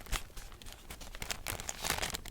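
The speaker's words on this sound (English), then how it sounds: "They always include this pretty little tissue paper" Pretty tissue paper from a Rishi Tea package crinkles and rustles up close in soft, irregular bursts, steady throughout with no talking.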